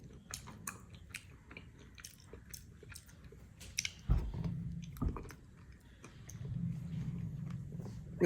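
Spoon scraping and slurping close up while someone eats thick Malabar avil milk mixed with ice cream and tutti frutti, soft wet chewing and squishy bites in an irregular rhythm, with louder stretches of mouth noise toward the middle and end.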